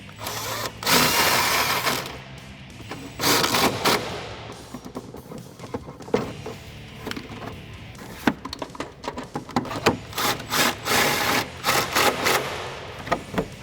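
A 3/8 air impact gun with a 16 mm flex socket runs bolts in on a 2008-2022 Dodge Challenger sway bar install, in repeated loud rattling bursts of one to two seconds separated by short pauses, close by.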